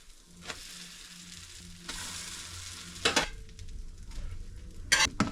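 Sourdough discard pancakes sizzle in a pan with a steady frying hiss, joined by several sharp utensil clatters and scrapes against the pan. The sounds are close and fairly quiet, with no talking.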